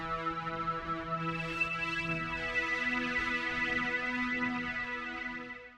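An OBX synthesizer lead on the Ghostly Drifter preset for darkwave plays alone, a sustained, richly harmonic tone with slowly shifting pitch that swells and then fades out at the very end.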